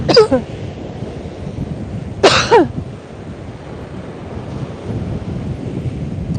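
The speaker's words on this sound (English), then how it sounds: "that breeze is really coming in" A strong breeze off the sea on Brighton beach buffets the microphone in a continuous low roar, broken by two sharp coughs near the start.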